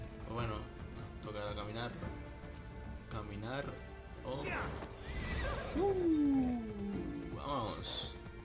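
Horse neighing in the video game Immortals Fenyx Rising, a clear rising-and-falling whinny in the middle of the clip, with hoof clip-clops and someone talking over the game sounds.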